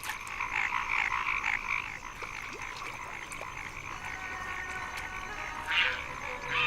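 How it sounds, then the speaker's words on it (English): Male paddy frogs call steadily in a wetland, a dense chorus of repeated croaking notes that overlap and continue throughout, moderately loud with a brief louder burst near the end. "Male paddy frogs call out to attract a nearby female"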